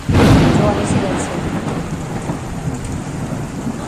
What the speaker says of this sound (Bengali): দেখো আজকে পরিবেশটা কত সুন্দর লাগছে, বৃষ্টি পড়ছে